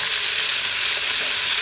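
A continuous bright hiss and bubbling as washed red lentils go into simmering homemade chicken soup, loud and steady with no voices.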